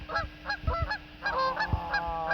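Geese honk near water from a boat, a rapid series of nasal calls, several overlapping, close and fairly loud with low thumps beneath.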